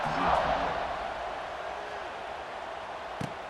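Stadium crowd in EA Sports College Football 26 buzzing after a touchdown, a steady broad roar of many voices that swells early and then holds as a continuous wash, with a brief sharp knock near the end.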